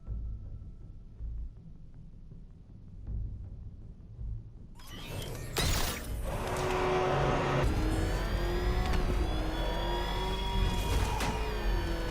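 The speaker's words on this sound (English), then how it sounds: "And please be careful with the car, Mr. Wayne. She's one of a kind" Batmobile engine from Batman: Arkham Knight roars to life after a quiet stretch, then rumbles and revs loudly and steadily up close, with no talk over it.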